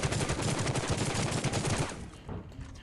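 A QBZ rifle in the shooter Rules of Survival fires a fast, steady string of loud, close shots that stops abruptly, followed by a couple of fainter trailing sounds.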